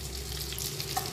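Tandoori chicken pieces fry in hot oil with a steady, close sizzle and a light crackle. No voices are heard over the brief burst.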